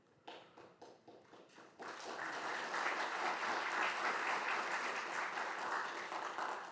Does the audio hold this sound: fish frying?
no